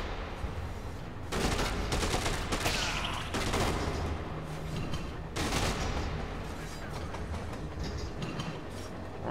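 Rapid, overlapping gunshots rattle through busy Dead Rising 2 game audio, coming in dense bursts of varying loudness against a rumbling background.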